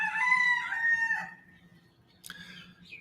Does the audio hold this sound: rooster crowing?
yes